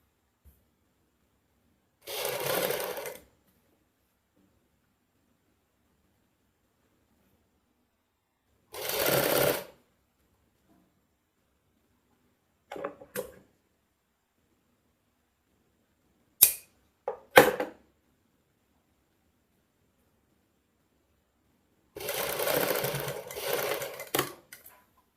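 A sewing machine stitches a Punjabi suit neckline in several short, close bursts of rapid whirring separated by long quiet gaps, with a few quick clicks between the longer runs.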